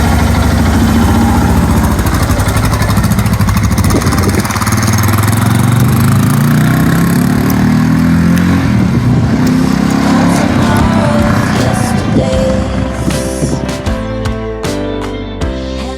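A motorcycle set up for a long overland trip runs loudly and close for the whole stretch, its engine rumble rising and shifting as if pulling away, then thinning out with sharp clicks and ticks near the end.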